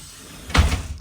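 Air-powered door of a 2012 Blue Bird Vision bus closing, a single short pneumatic whoosh ending in a soft thud, close by.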